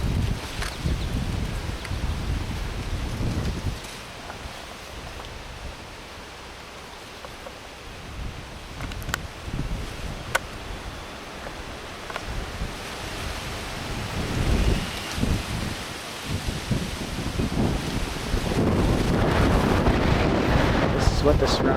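Wind gusts and rumbles outdoors near a campground in Ayersville, Ohio, a continuous broad rushing that swells and fades, loudest at the start and end, with a voice talking at times.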